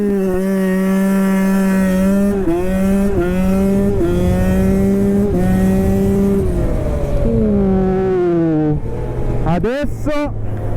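A KTM SX 125 two-stroke motocross bike screams at full throttle, climbing through gears in repeated rising wails with sharp shift breaks, loud and close, with a voice talking over parts of it.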